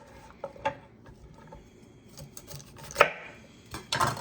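Cauliflower florets snapped apart by hand, scattered crisp cracks and crunches up close, with a sharper louder snap near the middle and a rougher break at the end over a quiet background.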